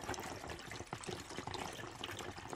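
Water draining from a pool pump pipe through a slightly opened valve, a steady close hiss and trickle of flowing liquid, soft and continuous with no talking.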